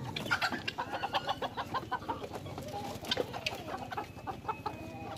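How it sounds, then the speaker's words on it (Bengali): Several chickens cluck and chatter nearby in a busy, continuous, overlapping rhythm, with no voices. "এই যে দেখুন কত সুন্দর করে আমার মুরগিগুলো নেমে যাচ্ছে।"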